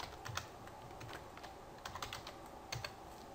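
Typing on a computer keyboard to enter a username and password: quiet, irregular key clicks in short bursts with brief pauses, close by in a quiet room.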